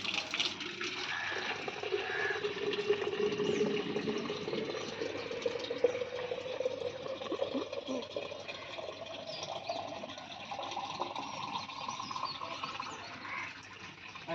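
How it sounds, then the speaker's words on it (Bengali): Water runs steadily into a container on a small farm, a continuous soft gurgling stream with a gently rising fill tone, heard alone and fairly close. "এই যে পানি এখন ভরে গেছে"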